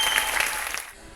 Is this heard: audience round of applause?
yes